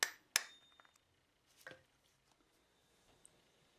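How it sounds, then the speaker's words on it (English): Hammer strikes on a Fiat 124 Sport Spider front wheel bearing race, two sharp close metallic hits at the start and a softer tap later, followed by quiet. "Keep hammering at it, tapping gently all around the edge."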